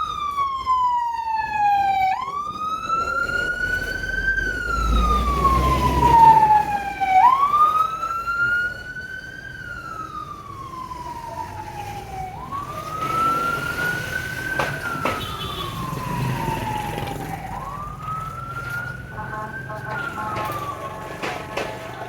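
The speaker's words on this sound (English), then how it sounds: "And now the ambulance is here." An ambulance siren wails in repeated rising and falling sweeps, fairly loud and close at first before easing slightly, with a low vehicle rumble and some background noise beneath it.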